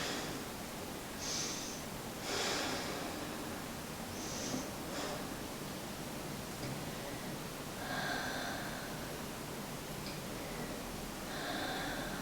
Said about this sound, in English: 5 more rounds of breath here